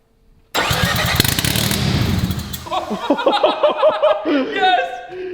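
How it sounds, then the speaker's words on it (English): A rotary engine fitted in a Corvette, run with no exhaust, cranks and fires into a loud raw buzzing roar that then settles into an uneven idle, with excited voices talking over it. "That is a rotary engine inside of a Corvette."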